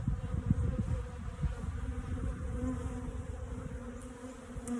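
Honeybees buzz around an open hive on a bee farm, a steady close drone of many insects with no one talking.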